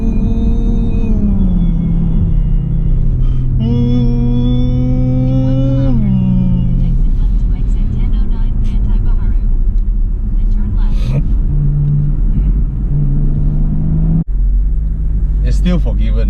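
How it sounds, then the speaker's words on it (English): A 2018 Porsche Panamera 4 Sport Turismo's 2.9 V6 rises in pitch through a short rev and settles back, a steady engine drone under close conversation inside the car. "That's how this car sounds, you know."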